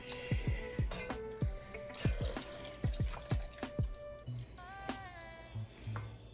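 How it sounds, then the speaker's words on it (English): Broth pours into a seafood, sausage and chicken gumbo pot, a series of splashing, dripping liquid sounds with a faint ringing pot tone, close and moderately quiet. "And you're adding in your broth."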